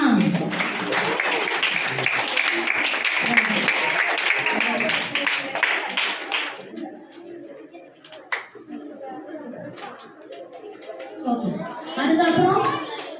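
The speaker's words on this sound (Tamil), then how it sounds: "நம்மை வழி நடத்தின எங்க ஏசப்பாவுக்கு ஒரு பெரிய கைத்தட்டு கொடுத்துடலாமா?" An audience at a children's Vacation Bible School church program claps in a loud burst that fades after several seconds, followed by scattered sounds and talk.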